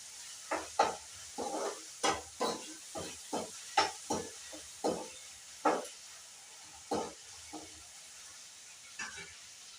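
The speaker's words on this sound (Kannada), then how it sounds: "ಅದಾದಮೇಲೆ ಮತ್ತೆ ಮಿಕ್ಸ್ ಮಾಡ್ತೀವಿ." Upma ingredients, with urad dal added, are stirred in a hot pan, giving a series of distinct scraping strokes over a faint sizzle, roughly a dozen irregular stirs, close and fairly quiet with no talk.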